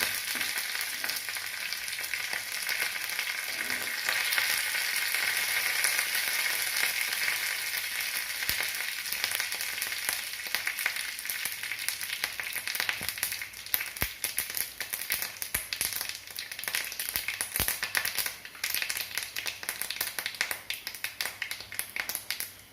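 Mustard seeds, dried chillies and curry leaves sizzling in hot oil for a pumpkin dal curry, a steady frying hiss scattered with sharp crackles and pops that grow denser toward the end.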